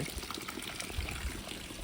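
Steady, close rush of water flowing continuously from a river stream outside a tiled-roof village house in rural Konkan, a dense even wash with a few faint low knocks and no talk.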